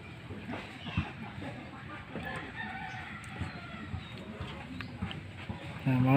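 Backyard chicken crows and clucks amid farmyard ambience, with someone talking throughout; the bird sounds are moderate and partly under the voice, with a louder call near the end.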